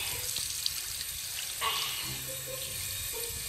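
A tap runs into a sink while hands are washed, a steady close hiss of flowing water with small splashes and shifts as the hands move under the stream.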